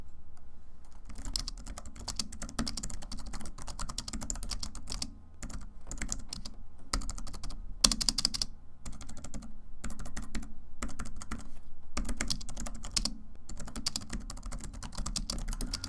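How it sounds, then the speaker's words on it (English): Rapid typing on a $20 Bluetooth keyboard in bursts, soft plastic key clicks close up, with brief pauses between flurries of keystrokes. "here's how the keyboard sounds"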